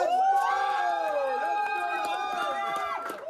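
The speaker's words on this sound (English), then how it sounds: "The cheering is well-deserved." Crowd cheering and whooping at the launch of a video game made in Quebec from an Indigenous perspective, a steady wash of excited voices with bright rising calls, sustained throughout at moderate loudness.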